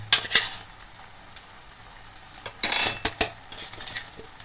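Ground spice powder is stirred into cooked puli keerai greens, with a soft background sizzle under a few bursts of spoon scraping and clinking against the pan.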